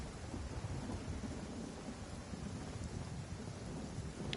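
Steady rain with rolling thunder in the Genshin Impact game world, a continuous dense wash of rainfall under a deep rumbling low end, even and unbroken with no voices.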